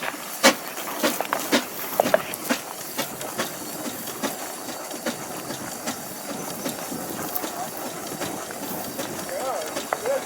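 A 1910 threshing machine runs at a family threshing event, a steady rattling mechanical roar with repeated clanks and thumps, going on throughout as people talk over it.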